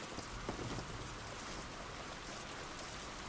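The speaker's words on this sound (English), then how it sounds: "This rain ain't gonna do us any good." Steady rain falls in The Last of Us, a dense, even hiss of drops on surfaces that continues without a break, fairly loud, with no talking.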